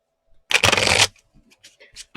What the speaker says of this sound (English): I found that the quicker you do it, the more it shuffles them up.